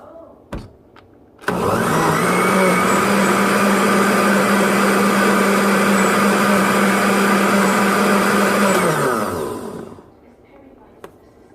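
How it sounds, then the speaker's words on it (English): A blender whirs loudly at close range blending salsa for about eight seconds, starting with a click and winding down at the end, with brief handling noises around it. "So I'm going to put that in my blender."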